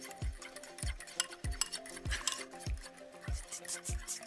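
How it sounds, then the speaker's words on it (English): Eggs being beaten and scrambled in a bowl, a whisk striking the bowl in a steady rhythmic beat of about seven close, even strokes with faint clinking between them. "Beat them, scramble them."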